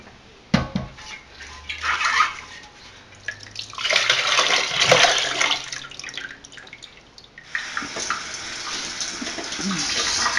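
Mead-making equipment rinsed under running water, with gushing splashes, drips and the odd knock of gear against the sink in uneven bursts, close by.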